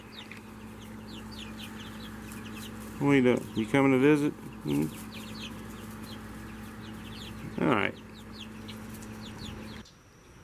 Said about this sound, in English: They're still a sketchy and flighty bird.